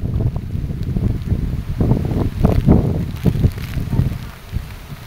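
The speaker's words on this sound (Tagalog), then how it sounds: "Tugas hangin no." Strong wind gusts roar and buffet outdoors, with broad rushing surges rising and falling over about five seconds, loud and close to the microphone.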